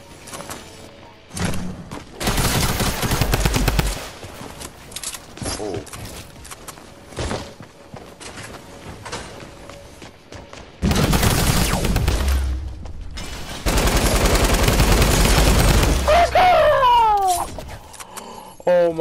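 Loud, rapid bursts of Tommy gun fire in a Fortnite Battle Royale match come in several long stretches, with gaps and other game noises between them and people talking.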